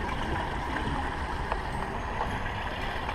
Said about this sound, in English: if you look down here, you'll hear it come flushing through